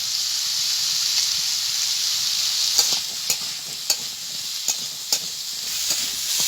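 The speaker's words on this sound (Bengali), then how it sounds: "আলুগুলো আমার ভালোভাবে ভাজা হয়ে গেছে।" Potatoes sizzle steadily in a pan, a constant close hiss broken by several spatula scrapes and taps.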